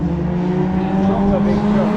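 A safety car drives around a race track, its engine a steady, moderately loud drone with a sustained low hum, heard under a commentator's voice.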